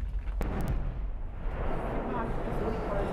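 A blasting detonation at a mining quarry near an urban area produces a heavy, sustained low rumble. It rolls on for several seconds, with a sharper crack near the start and dense broadband roar throughout.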